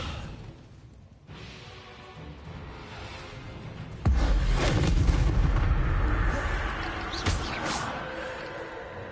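Confringo and Descendo spell impacts in a Harry Potter video game, starting as a low rumbling ambience and then hitting with a sudden heavy boom, followed by sustained roaring blast noise and a second sharper whooshing impact.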